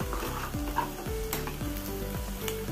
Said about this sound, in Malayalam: ഇനി ചെറുതായി അരിഞ്ഞ തേങ്ങയും കൂടി ചേർത്ത് കൊടുക്കുക.